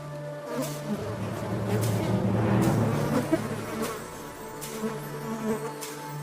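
Horseflies buzz around zebras in the wild, a steady close insect drone that swells and fades as they circle, with no other sounds standing out.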